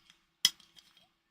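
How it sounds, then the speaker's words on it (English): A wine bottle's cork comes free with a single sharp, quiet pop followed by a faint glassy clink, heard close in an otherwise still room. "So here is a nice cork pop for you."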